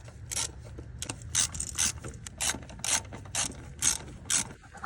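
Rapid clicking bursts of a ratchet driving the four screws that hold a throttle body onto a car engine, close and fairly quiet, repeated strokes with brief pauses between them.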